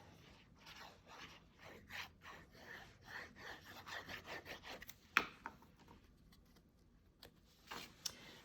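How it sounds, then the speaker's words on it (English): Paper is rubbed down by hand onto a handmade watermelon birthday card, giving quiet, close, rhythmic scuffing strokes with a couple of small taps and no speech. "Let's just turn that over and give it a little rub"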